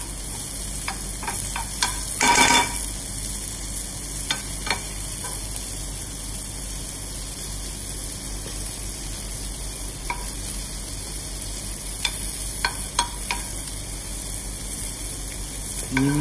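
Garlic slices frying in a pan, a steady soft sizzle with occasional sharp ticks and clicks of stirring, one louder scrape near the start, no talking.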